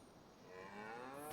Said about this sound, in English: So we have 3 cows currently.